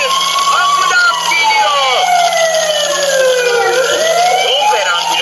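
A toy ambulance plays its electronic siren, a loud, continuous wailing tone that sweeps up and down close by and dominates throughout, with a voice talking faintly underneath.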